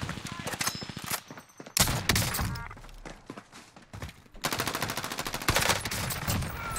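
Gunfire in a Call of Duty match with a ZRG sniper rifle loadout: rapid bursts and cracking shots, some automatic fire and heavy thuds, loud and close, with voices talking underneath.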